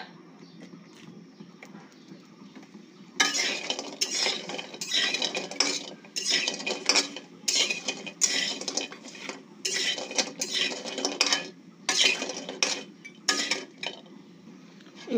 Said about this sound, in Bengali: এবার দেবো সরিষার তেল দিয়ে বড়িগুলো ভেজে নিব